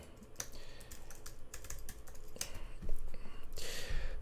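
Rapid typing on a computer keyboard to log in, with quick, uneven key clicks running continuously at close range and a denser burst of keystrokes near the end.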